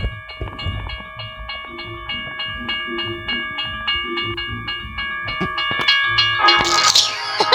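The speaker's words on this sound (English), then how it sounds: "Oh no, the train's coming." A video game train approaching and passing in a train-versus-cars crash game, with a steady rhythmic clacking of wheels over rail joints under a droning hum that grows louder and harsher toward the end.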